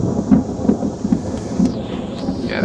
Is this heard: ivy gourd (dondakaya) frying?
no